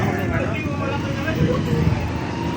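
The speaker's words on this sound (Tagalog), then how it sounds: "Sobrang traffic yan palengke mga kasyopa, ken highway" Heavy road traffic crawls along a highway beside a busy market, with a low, continuous rumble of buses, cars and engines, and voices talking over it close by.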